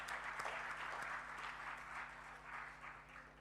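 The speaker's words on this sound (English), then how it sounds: "So maybe we can have a big round of applause for them really." Steady audience applause fills a workshop hall, quiet and somewhat distant, with a constant electrical hum underneath and no speech.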